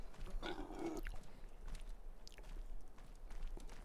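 Pigs in the Farming Simulator 2025 video game give a short burst of grunts near the start, then go quiet. Faint shuffling and a low background hum continue underneath.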